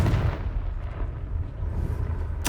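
A Confringo blasting spell in Hogwarts Legacy erupts in a deep, booming explosion that rumbles and fades over a couple of seconds, followed by a sharp new burst at the end.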